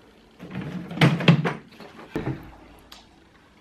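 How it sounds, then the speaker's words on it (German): A drawer is pulled open close by, giving a cluster of wooden-sounding scrapes and thunks followed by a softer knock a moment later, with no talking. "Jetzt schauen wir mal in die Schubladen rein."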